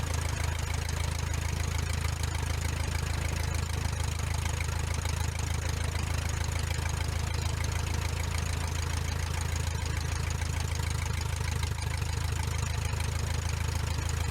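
A Luscombe light aircraft's engine idles steadily on the ground in hot, nearly calm conditions before takeoff, a continuous low throbbing rumble close by with no voices.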